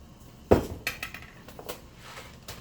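Dry macaroni from two boxes of mac and cheese tumbles into a cooking pot, a sharp rattling clatter at the start followed by a few lighter clinks and scattered ticks.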